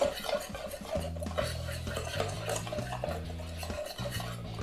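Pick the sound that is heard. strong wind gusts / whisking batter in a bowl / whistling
whisking batter in a bowl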